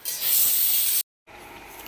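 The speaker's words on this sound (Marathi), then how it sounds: "बटाटे लावले कुकरला" A pressure cooker cooking potatoes lets out a loud, steady steam hiss for about a second. The hiss cuts off into brief silence, then resumes more softly.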